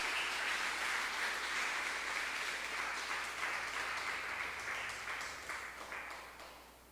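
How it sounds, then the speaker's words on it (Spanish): A church congregation applauds in praise during a Spanish-language sermon, a steady wash of many hands clapping that holds for several seconds and then slowly fades. "Dame un aplauso al Señor de alabanza, porque Él es digno."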